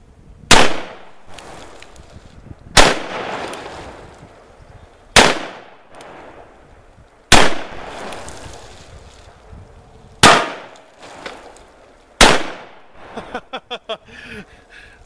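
A gold-plated Ruger Super Blackhawk revolver fires at big wet jugs outdoors: six loud, sharp shots spaced roughly two seconds apart, each with a short decaying echo, followed by a burst of faint clicks and clatter, with no talking.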